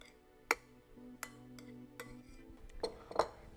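A spoon stirs salsa dressed with lime juice and olive oil in a bowl, giving a few sparse, close clinks and taps against the bowl with quiet gaps between them.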